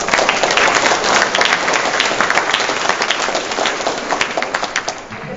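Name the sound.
audience applause for the organizers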